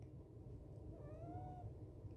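A pet cat gives one soft, drawn-out meow that rises and falls. It sounds fairly close but quiet, over a low, steady indoor hum.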